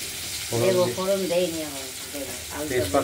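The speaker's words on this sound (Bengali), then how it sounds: "আমরা প্রথমে কড়াইতে তেল গরম করে বাঁধাকপিতে দেওয়া আলুগুলো ভেজে নিচ্ছি" Potatoes for a cabbage curry frying in hot oil in a wok, a steady close sizzle running beneath a voice speaking throughout.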